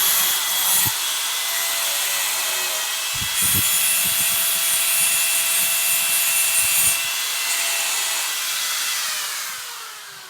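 A plastic closet pipe for a wall-mounted toilet is cut to length with steady sawing strokes, a sustained abrasive cutting noise with a few short breaks and knocks, loud and close, no voices.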